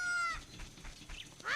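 Cartoonish chicken clucks from the game Zelda: Ocarina of Time sound as short, high squawks at the start and again near the end, with quiet game ambience in between.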